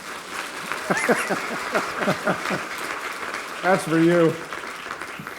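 A conference audience in Taiwan applauding a speaker, a steady wash of clapping beneath a man's speech and a brief sung or drawn-out vocal passage near the end.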